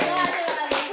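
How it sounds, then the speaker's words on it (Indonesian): Studio audience on an Indonesian talk show clapping, a burst of several hand claps under background voices, fairly close and steady for under a second. "kasih tepuk tangan dulu dong"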